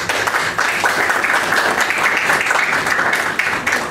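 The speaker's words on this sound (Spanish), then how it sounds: "lo saludamos con fuerte aplauso" A strong round of applause at a Spanish-language legal conference on constitutional principles of criminal law, honoring a defense lawyers' coordinator; dense, steady clapping from a sizable audience that holds at even loudness for several seconds.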